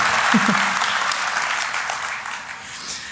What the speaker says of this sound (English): People are finally clapping for me.